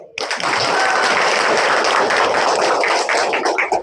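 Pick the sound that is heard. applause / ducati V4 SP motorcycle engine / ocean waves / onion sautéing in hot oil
applause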